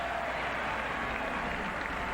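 Crowd at a 1994 Texas Rangers versus Detroit Tigers baseball game applauding after a fan catches a foul ball in the right-side stands, a steady wash of clapping and cheering with no talk.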